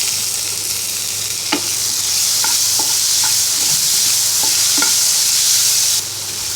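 Chopped onion and tomato fry in hot oil for a tomato and eggplant bharta, making a loud, steady sizzle broken by a few sharp scrapes of stirring. The frying noise drops off abruptly near the end.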